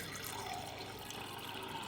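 Chilled water from the dispenser of a Westinghouse WH7074SA refrigerator pours in a steady, continuous stream, a soft hissing splash that stays even for a couple of seconds.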